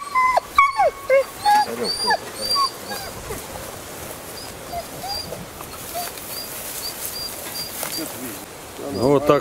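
A tired hunting hound whimpers and yips repeatedly after a two-hour chase outdoors, with high whines rising over insect buzz and rustling; someone speaks briefly.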